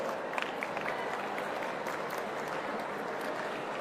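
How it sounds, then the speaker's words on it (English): Students in an audience at a quantum technology event in Amaravati cheer and applaud in a dense, unbroken wash of clapping and crowd noise that stays at an even level throughout. "a huge cheer for the student community over here"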